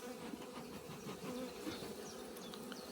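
Honey bees drone steadily around an open hive during an early-spring beekeeping check in March, a close, continuous, dense buzz with small shifts in pitch and no voices.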